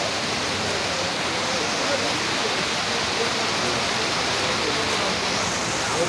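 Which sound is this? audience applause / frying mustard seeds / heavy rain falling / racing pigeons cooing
heavy rain falling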